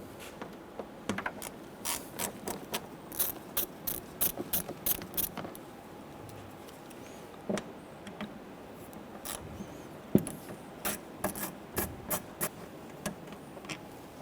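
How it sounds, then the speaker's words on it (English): Rapid ratcheting clicks from a hand tool loosening Torx screws on a 1997-2006 Jeep Wrangler door pull, in short bursts, close up, pausing briefly between turns. "Loosen and remove the two Torx bit screws for the door pull."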